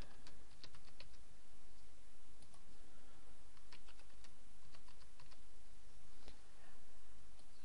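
A password is typed on a computer keyboard in a steady run of soft, quick key clicks with brief pauses, close and fairly quiet, with no voices.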